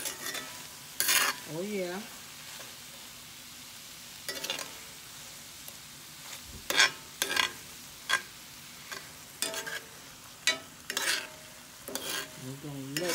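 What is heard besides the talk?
mixing meatloaf ingredients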